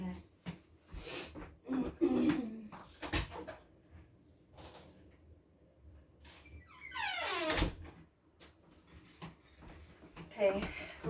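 A door is opened to let cats in: a few knocks and handling clatters, then a long creaking squeak of the door swinging, with quieter rustles around it.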